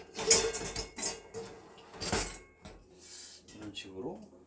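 A metal cooking pot clanks and rattles against the dishwasher rack as it is set inside, several sharp knocks with a quieter scrape near the end, and a person talks quietly between them.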